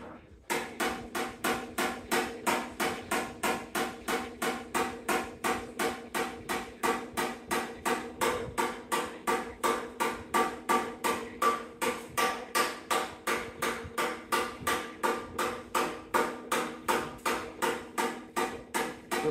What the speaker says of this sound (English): I'm just working with a flatter hammer